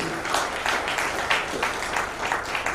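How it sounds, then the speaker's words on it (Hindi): An audience at an NGO function in a Jodhpur hotel breaks into loud, sustained applause, the clapping surging in rhythmic waves and filling the hall without any talk over it. "और पहले एक बार जोरदार तालियों से आपको प्रणाम है।"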